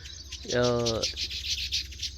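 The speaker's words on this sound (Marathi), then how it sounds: "सकाळ सकाळ पक्ष्यांचा किलबिट आहे सुगरण पक्ष्यांचा" Baya weaver birds chirp in the morning, a busy run of rapid high chirps repeating throughout. A brief, deeper voiced sound cuts in near the start, and the birds carry on at moderate distance.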